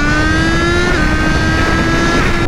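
A sport motorcycle runs fast along an open highway at about 120 km/h. Its engine holds a loud, steady, near whine with a brief pitch dip, over constant rushing wind, and no talking is heard.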